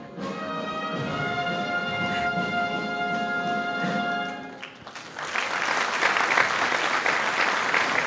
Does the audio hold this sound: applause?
yes